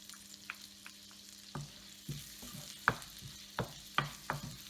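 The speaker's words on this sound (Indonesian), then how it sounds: "ini saya goreng dengan margarin ya." Margarine melting in a hot oiled pan while cooking garlic, giving soft crackles and sizzle with scattered pops and stirring clicks, fairly faint and close, without any talk.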